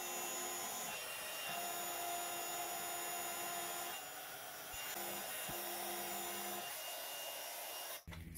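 A heat tool heating embossing sprinkles on watercolour card, a continuous loud blowing whir with a steady motor drone, its pitch shifting slightly as it moves, then cutting off abruptly near the end.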